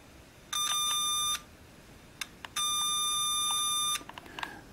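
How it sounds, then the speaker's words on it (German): A signal injector fed into a radio's volume control produces two steady electronic beeps, one short and one longer, clear and close over a faint hiss with a few small clicks between. "wie dieser Signalinjektor oder Signal Injector am Lautstärkeregler einen deutlichen Piepton hervorruft"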